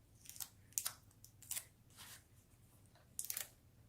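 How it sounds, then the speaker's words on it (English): Paper leaves being taped together for a Halloween pumpkin craft: a few soft, close crinkles and tape rips in short separate bursts, fairly quiet, with no talking. "I'm going to use some tape to tape my leaves together"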